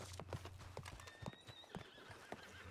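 A horse in the RedM roleplay game Red Dead Redemption 2 clops its hooves in a steady, fairly close rhythm and lets out a drawn-out whinny midway, over low game ambience.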